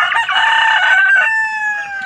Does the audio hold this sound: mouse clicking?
no